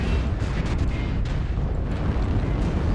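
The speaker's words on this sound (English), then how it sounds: "Oh shoot, I dropped artillery on myself." Artillery strike in the MechWarrior Online mech combat game, a dense continuous roar of overlapping low explosions and rumble, loud and sustained without pause.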